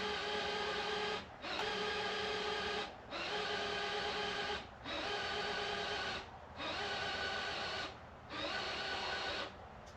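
A dying power drill whirs steadily in long bursts, stopping briefly about every one and a half seconds before starting again, loud and close.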